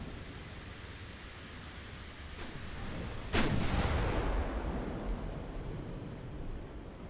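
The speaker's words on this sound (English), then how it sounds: "This should be a kill volley here." A battleship's big-gun volley in the naval strategy game Ultimate Admiral: Dreadnoughts, a single deep booming blast that rolls and decays over several seconds above a steady background rumble of sea and wind.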